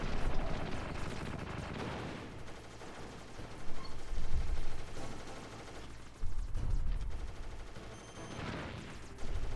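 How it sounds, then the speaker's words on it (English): A boss fires a missile in Metal Gear Solid, heard as heavy low booming blasts that swell around four and six seconds over a continuous rumbling game soundscape, with a sharper burst near the end. "He's going to fire that missile."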